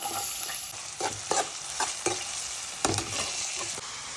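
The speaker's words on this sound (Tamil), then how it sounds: "வந்து வெங்காயம் போட்டுடலாம்." Onions fry in a pan on a stove, a steady sizzle broken by repeated scraping stirs at an uneven rhythm, close and fairly quiet with no voices.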